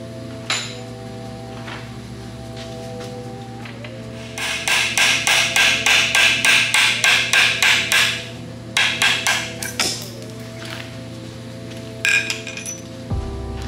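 Metal punch being hammered to drive a roll pin out of a transmission shift linkage during a sequential transmission conversion: bursts of rapid, ringing metallic taps over a steady mechanical hum, then a few scattered clinks.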